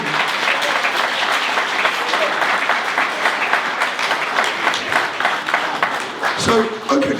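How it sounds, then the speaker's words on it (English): An audience at a mod weekender Q&A session applauds with sustained, dense clapping, loud and continuous, fading slightly near the end as a voice begins. "give yourselves a round of applause for turning out, supporting it"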